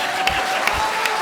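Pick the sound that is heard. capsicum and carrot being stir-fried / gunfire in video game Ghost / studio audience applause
studio audience applause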